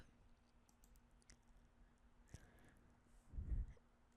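Someone types on a computer keyboard while searching in the Unity editor, making a faint, sparse run of light key clicks, with a soft low bump near the end.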